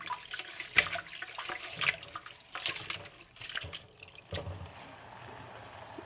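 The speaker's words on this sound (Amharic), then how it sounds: "እና ከዛ አጥበዋለሁ በቀዝቃዛ ውሃ።" Oats being washed by hand in cold water, with irregular splashing and sloshing, close and moderately loud, broken by a few sharper splashes and a quieter stretch toward the end.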